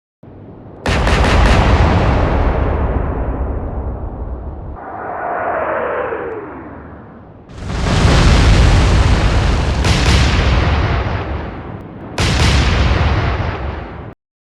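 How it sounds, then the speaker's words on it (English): Heavy 18.1-inch naval guns of the Japanese bombardment ship Kashino fire at night, a series of loud, booming blasts with long rolling rumbles, about four distinct detonations spaced several seconds apart, no talking. "large-caliber shells thundered through the darkness"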